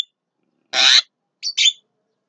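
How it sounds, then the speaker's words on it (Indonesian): Asian pied starling (jalak kebo) calling in daytime, one longer bright chirping phrase followed by two short, closely spaced sharp calls, near and clear with silence between. "kita mendengar kicau-kicauannya burungnya"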